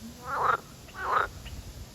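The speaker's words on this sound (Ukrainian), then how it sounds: "Жаби просто дві. Три жаби." Frogs croak near a fishing spot on the water, two loud, close rasping calls about half a second apart, followed by fainter calls over low outdoor background noise.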